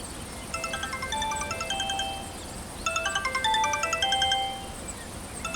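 A mobile phone ringtone plays a bright electronic melody of repeating chimes in two bursts with a short pause between them, clear and near, with no talking.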